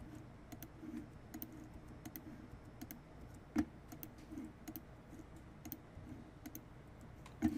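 A computer keyboard clatters softly nearby with scattered key presses and clicks, including the delete key, and one sharper press stands out midway.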